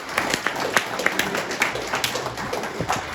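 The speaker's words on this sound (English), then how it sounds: "Round of applause for this." Brisk audience applause at a post-fight press event, many claps blending into a fairly loud, steady patter that runs the whole clip.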